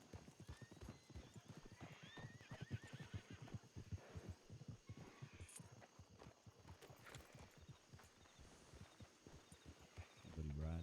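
Rhythmic hoofbeats from a video game horse clop steadily throughout, with a horse whinnying in the mix and faint voices speaking underneath.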